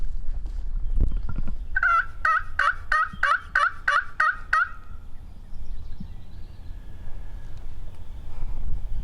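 Wild turkey gobbling outdoors during a hunt: a rapid, loud run of about eight gobbles bursts out, then fades to wind and quiet outdoor ambience.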